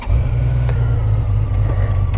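A Honda Valkyrie Rune motorcycle engine fires up and settles into a deep, steady low rumble, close and loud, with no talking.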